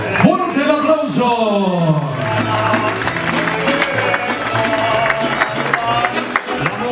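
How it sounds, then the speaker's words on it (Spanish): A quinceañera party crowd applauds the celebrant and her chambelanes. There is dense, sustained clapping from many guests, mixed with music and an announcer's voice at the start. "¡Fuerte el aplauso!"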